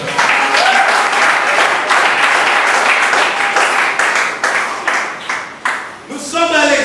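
A church congregation applauds and cheers together in loud, sustained clapping that fills the space, easing briefly near the end before picking back up.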